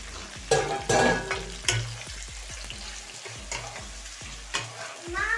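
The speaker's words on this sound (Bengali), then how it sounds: "পেঁয়াজটা যাতে ভালোভাবে ভাজা হয়" Onions sizzle and crackle in a hot pan with salt added for khichuri, while a utensil scrapes and stirs in repeated strokes, close and fairly loud, with no talking.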